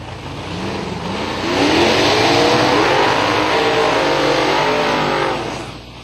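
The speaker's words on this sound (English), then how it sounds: "Oh, the nitrous machines making the power." Nitrous-powered drag race cars, including a 1993 Mustang with a 450 cubic inch engine, roar loudly down the strip at Silver Dollar Raceway, the engine note building and holding in a sustained high-revving howl.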